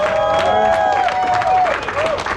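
A crowd at a candlelight vigil and George Floyd mural tour claps and cheers steadily, with voices calling out over the applause outdoors.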